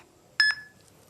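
A single short electronic beep signals the start of a spoken-test recording, clear and isolated against near silence.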